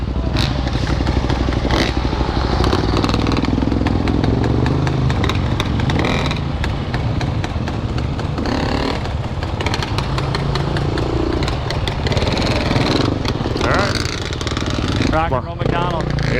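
A Yamaha YZ450FX or Beta 350RRS dirt bike engine revs hard and continuously while climbing at a rocky creek, loud and close, with clattering and scraping from the bike and people talking over it.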